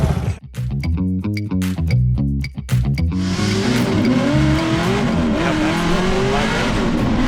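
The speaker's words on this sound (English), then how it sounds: "And Field just sticking it to the wall" A drift car on Falcon Tires slides along the wall at a Seattle drift battle. The engine bounces hard off the limiter, then gives way to a loud, sustained tire squeal and roar, close and continuous.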